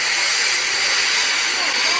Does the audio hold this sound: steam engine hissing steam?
yes